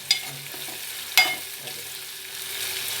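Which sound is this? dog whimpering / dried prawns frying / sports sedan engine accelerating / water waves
dried prawns frying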